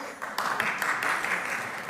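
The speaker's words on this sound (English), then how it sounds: "that was a weak round of applause for Moshiach is coming" Thin, scattered round of applause from a small studio audience at a comedy news show, a brief patter of clapping that stays fairly quiet and even throughout.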